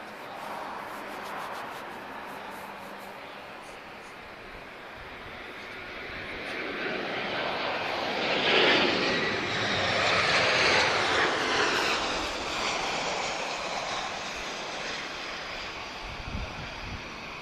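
A Brussels Airlines airliner lands at Lisbon Airport, its engine roar rising gradually from a distance, peaking loud and broad around the middle, then fading away as the jet passes; no speech.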